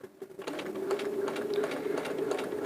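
A sewing machine stitching machine-pieced quilt-as-you-go hexagons runs in a close, steady whirring hum with rapid needle ticks after a brief start, no talking.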